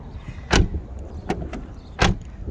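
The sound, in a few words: BMW 328i E90 front car door opening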